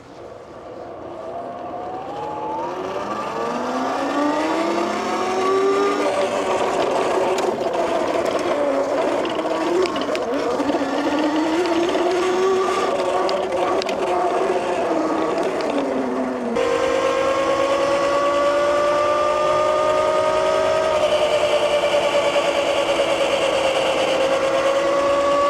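An electric MEGAWHEELS D2 dirt bike riding on a road gives a loud, close electric motor whine that rises in pitch as it speeds up, then holds a high steady tone with road and wind rush underneath.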